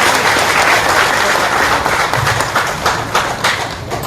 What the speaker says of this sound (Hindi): मैं कहूंगी जोरदार तालियां।